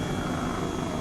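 A helicopter hovers over airport taxiways in Microsoft Flight Simulator 2020, giving a steady, unbroken rotor and engine drone that stays constant and fairly loud throughout, with no talking.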